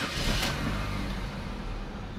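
A Chevrolet Optra 1.8 engine running after starting, a steady loud mid-pitched engine drone heard close, with no voices over it.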